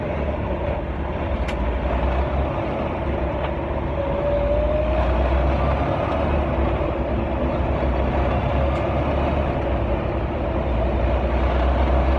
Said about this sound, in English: Mr. Esteban is shifting a 13-speed.